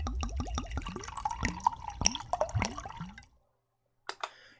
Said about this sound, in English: Water filling from a bottle sound effect.